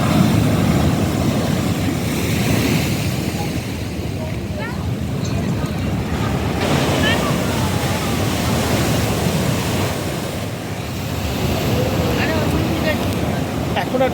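Rough sea waves at Digha beach after Cyclone Remal roar as a loud, continuous wash with surges and dips, while voices talk faintly in the background.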